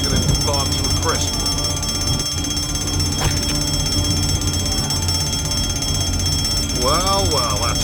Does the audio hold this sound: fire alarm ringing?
yes